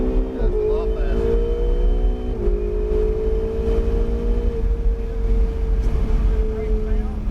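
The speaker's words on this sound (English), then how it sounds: "Accelerating out to the left. Keep accelerating. Give it gas all over those 2 yellow cones." A car accelerates hard on a driving course, its engine whine climbing through the gears in several rising sweeps with brief drops at the shifts, loud and close, while someone talks over it.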